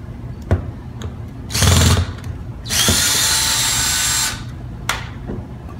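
A cordless power drill backs out two screws from the access plate of an Eco Spa Eco 4 plug-and-play hardcover hot tub, giving two loud whirring bursts, a short one then a longer one, with faint clicks between.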